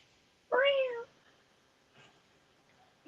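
A person imitates a cat's meow with a single short, clear vocal mew, close and loud, followed by quiet room sound and a faint voice.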